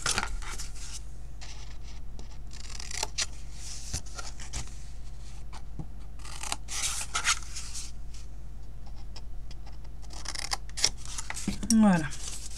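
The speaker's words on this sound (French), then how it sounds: "Ici, donc, mes 4 coups de ciseaux." Scissors snip through patterned paper while a chocolate gift box is being made by hand, giving a handful of short, crisp cuts close by amid soft paper rustling, with a voice speaking now and then.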